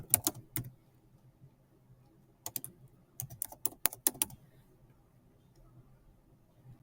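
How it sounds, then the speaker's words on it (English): Keys clatter on a computer keyboard in quick bursts of typing separated by pauses, close and fairly quiet over a low room hum. "I will type in the name and the description as well."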